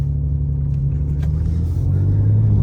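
BMW M3 Competition engine heard from inside the cab through open Mishimoto intakes, a loud steady low rumble and drone that swells slightly toward the end.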